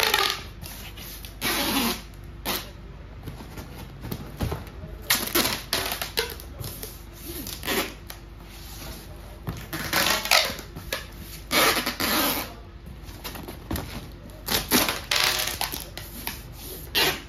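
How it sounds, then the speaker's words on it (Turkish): Packing tape rips off the roll in repeated sharp, loud bursts as same-size cardboard boxes are taped together into one stacked parcel, with short pauses between pulls. "ebatlar aynı olursa birbirine bantlayıp üst üste tek koli haline getiriyoruz"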